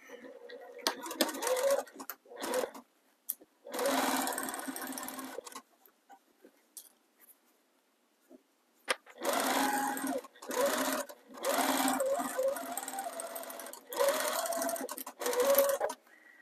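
A sewing machine stitches a seam for faux piping, its needle running in several steady bursts separated by pauses, close and clear, with brief soft speech in the gaps.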